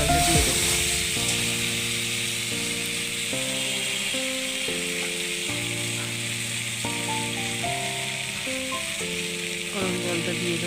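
Hot water hits a pan of spiced, cooked-down oil and throws up a broad, steady sizzling hiss that continues throughout beneath background music.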